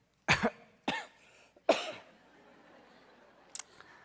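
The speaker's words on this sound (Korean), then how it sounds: "혹시 제가 오늘 설교하다가 기침을 하거나 해도 좀 양해해 주시기 바랍니다." Three sharp coughs from a man with a cold, close to the microphone, spaced about half a second apart during a church sermon, followed by quiet and a faint click.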